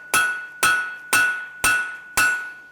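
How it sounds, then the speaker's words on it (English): A blacksmith hammers a steel bar held at 45 degrees on the anvil to forge a set down, five loud ringing metallic strikes at an even, unhurried pace, each leaving a bright decaying tone. "I'm going to have my bar at 45 degrees, and I'm going to be hammering aiming for that corner"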